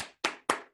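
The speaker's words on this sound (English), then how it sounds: "round of applause for everyone." A few hand claps of applause for performers at a virtual recital, four sharp separate slaps in a steady rhythm, close and clear, alone.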